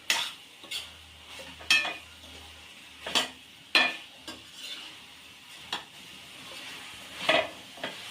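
Tomatoes stirred in a kadai for a gongura boti and chicken curry: a spoon scrapes and clinks against the pan in about eight irregular strokes over a faint background sizzle, with no talking.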